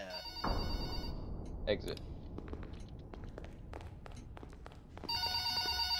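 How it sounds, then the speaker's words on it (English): In a Roblox game, a telephone rings with a bright electronic trill that stops, leaving a stretch of footsteps and taps before the ring starts again; someone speaks briefly. "Pick up phone."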